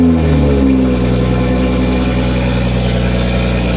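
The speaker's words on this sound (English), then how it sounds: "let's get a bit of a cold start." A 2021 Toyota GR Supra with a catless downpipe, running after a cold start: a loud, deep, steady idle with a low droning exhaust note that settles after a brief early flare.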